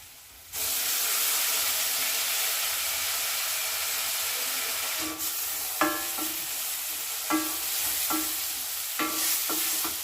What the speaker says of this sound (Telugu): పెసరపప్పు వేసుకొని అది 2 నిమిషాలు ఆయిల్‌లో అలా ఫ్రై చేసుకున్న